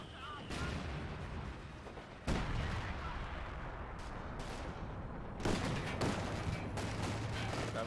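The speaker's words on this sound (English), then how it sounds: "Got Brit artillery coming in on this defensive position." British artillery pounding a defensive position in a video game, with heavy booming impacts and crackling gunfire arriving in several sharp bursts over a constant battle din.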